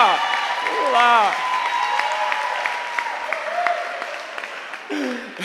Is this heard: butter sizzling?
no